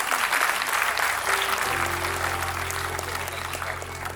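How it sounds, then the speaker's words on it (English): A conference hall audience at an inaugural session applauds as a guest walks to the stage, steady crowd clapping throughout while a low electronic hum enters midway and continues underneath. "let's welcome her with an enthusiastic round of applause"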